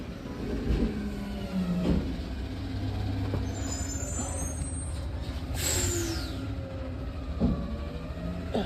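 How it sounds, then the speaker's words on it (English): A noisy garbage truck rumbles past outdoors in a garden, its steady low engine drone joined by a sharp air-brake hiss and squeals midway. "Noisy trash truck."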